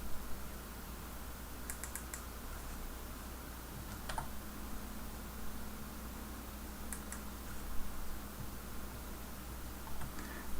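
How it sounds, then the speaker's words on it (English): Keys on a computer keyboard clack in short sparse bursts over a steady background hiss and hum, with faint, quick taps spread across several seconds. "I'm going to just type in my username, and I'm going to type in my password."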